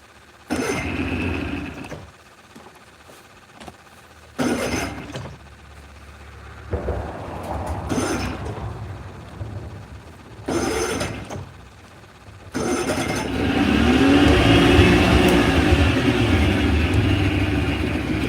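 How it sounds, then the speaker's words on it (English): An old two-stroke 70 horsepower Johnson outboard motor on a boat. It runs with a rough, uneven drone, rising and falling in short surges at first, then swelling into a louder, sustained roar as it opens up. "That damn old two-stroke 70 Johnson, a gas drinking and a smoking joker, but it moves"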